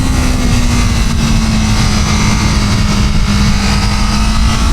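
A 2025 Honda CBR1000RR-R Fireblade pulls hard in first gear, its engine a loud, steady, close drone with a strong sustained tone that holds level throughout.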